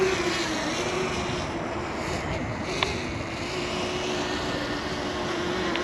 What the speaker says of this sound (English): Turn the camera on the drone, and up we go.